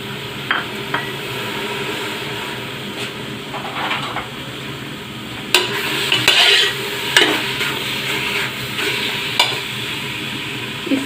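Boneless beef with salt, turmeric, crushed red chilli, cloves, black cardamom and cinnamon cooks in a pressure cooker, giving a low steady sizzle broken by scraping stirs and clinks of a utensil against the pot, with no voices.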